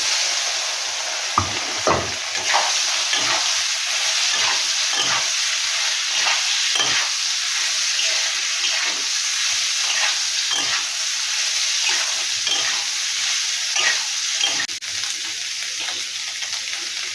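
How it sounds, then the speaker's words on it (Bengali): Soya chunks fry in a pan with a steady, dense sizzle, and a utensil stirs them in repeated scraping strokes throughout. No one speaks. "সয়াবিনটা ভেজে নেব।"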